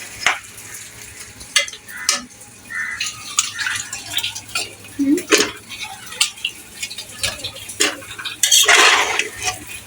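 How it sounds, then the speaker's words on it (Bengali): A spoon stirs thinly sliced potatoes and chicken in a pressure cooker pot, with steady scraping and clinking against metal over continuous frying sizzle, loud and close throughout. "এখন আলুটা দিয়ে আরেকটু কষিয়ে নিব।"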